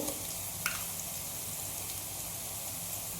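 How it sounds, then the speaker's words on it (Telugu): Onions with cinnamon and cloves fry in a pan for Telangana-style mutton head curry, a soft, steady sizzle with tiny crackles and one brief sharper pop, quiet and unbroken throughout. "చెక్క లవంగా వేసుకుందాం, ఉల్లిపాయ వేసుకుందాం. కాస్త మగ్గనిద్దాం."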